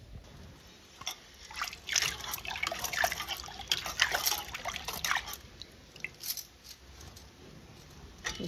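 Water sloshing and dripping as lentils are washed in a vessel and the water is poured off, with irregular splashes and trickles close by and no talking.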